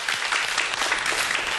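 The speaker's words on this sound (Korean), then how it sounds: "박수 한번 주십시오." A brief burst of audience applause at a youth startup talk event, dense and even clapping from a moderate crowd, fairly close and unbroken.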